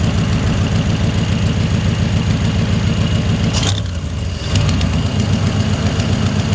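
A Chevrolet S10 engine fitted with Holley Sniper EFI idles loudly up close with an exhaust leak, giving a steady rapid ticking pulse that dips briefly midway before resuming.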